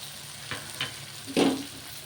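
Chili and coriander powder stir-fried in hot oil for a rajma masala curry, with a few soft, brief scraping stirs and a faint sizzle in a quiet kitchen.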